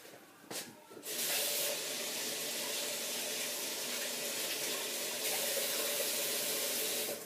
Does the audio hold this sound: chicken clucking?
no